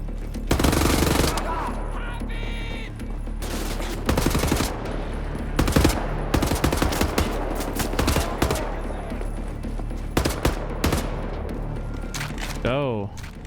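Bursts of rapid gunfire and booming shots from a big mounted gun at a fortified Nazi checkpoint in a video game, loud and repeated throughout with excited voices talking over it.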